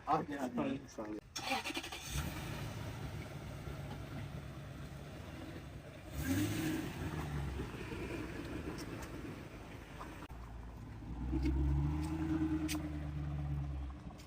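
A Toyota Land Cruiser engine cranks and starts, then idles and revs as the vehicle pulls away in a village setting, with people talking over the engine throughout.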